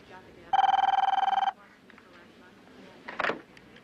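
A telephone in a 1993 TV movie rings with one loud, evenly trilling electronic burst lasting about a second, followed by quiet room tone and a brief clatter.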